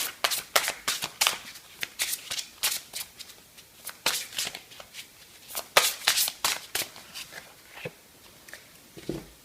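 Tarot cards are shuffled in a rapid series of crisp riffling snaps close by, bursts repeating irregularly across the whole stretch with no voices.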